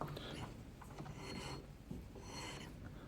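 A lathe tool lightly touches a metal workpiece turned slowly by hand, making a faint, quiet scraping and rubbing with soft uneven rasps that continue throughout. No one talks.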